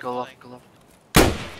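A single sharp gunshot cracks out in a video game, loud and sudden, right after a short burst of talking.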